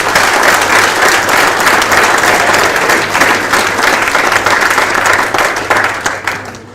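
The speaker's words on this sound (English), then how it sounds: "we can give them a round of applause" A crowd gives loud, sustained applause at a South African tag rugby capping ceremony, a thick, even roar of many hands that carries on for several seconds before tapering off at the end.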